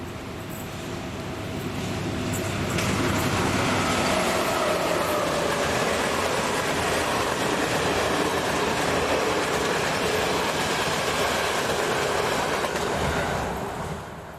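Class M41 diesel locomotive hauling a train beside Lake Balaton, a steady broadband rumble and rail noise that swells in within the first two seconds, holds loud and continuous, then eases slightly at the end, with no voices.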